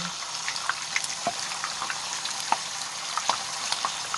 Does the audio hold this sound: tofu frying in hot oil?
yes